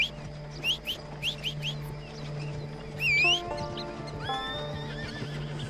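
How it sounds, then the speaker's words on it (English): A horse in a video game neighs and whinnies several times, with bursts of clip-clopping hooves and occasional bird calls behind it. "Let's see if my horse will come to me."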